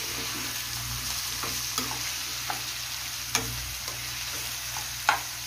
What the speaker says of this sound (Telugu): దీన్ని అయితే యాడ్ చేసేస్తుందా మష్రూమ్ కూడా ఇలా మంచిగా ఫ్రై చేసేయండి.